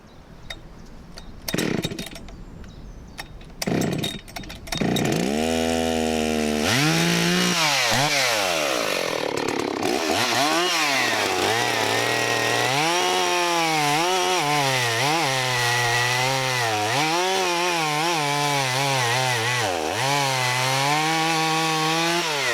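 Rebuilt chainsaw with a new piston, loud and close, revving in bursts then cutting under load through a piece of ash, its engine note rising and dropping steadily as the chain bites.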